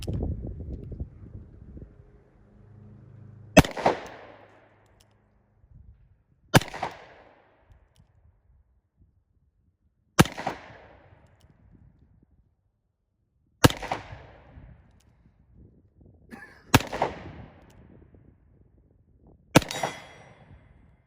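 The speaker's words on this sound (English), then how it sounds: "So let's go ahead and fire some 38 Special through it." A Colt Python revolver firing .38 Special rounds outdoors: six loud, sharp shots spaced about three seconds apart, each cracking sharply and then decaying, with faint wind noise in between.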